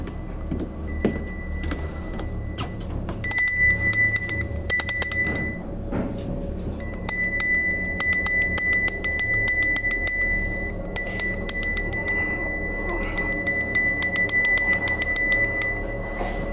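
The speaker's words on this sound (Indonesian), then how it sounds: "Saya butuh bel." A hand bell rings during a ritual on an Indonesian television show, bright metallic jangling in loud bursts separated by short pauses, with a low background rumble and no speech.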